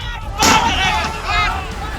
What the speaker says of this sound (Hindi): भीड़ को कंट्रोल करने के लिए आंसू गैस के गोले छोड़े गए।